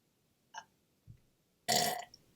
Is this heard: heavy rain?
no